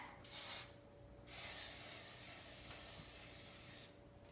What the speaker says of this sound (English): spray down these pans with cooking spray